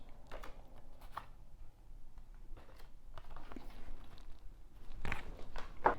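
Soft rustling and crisp card-handling sounds as art cards from a Project A 4K UHD Blu-ray box set are picked up and shuffled, close and quiet with a few brief sharper flicks.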